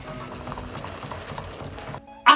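Steady bubbling and sizzling of salted butter caramel in a saucepan for about two seconds, then a brief pause before a sharp burst of hissing as hot cream is poured in.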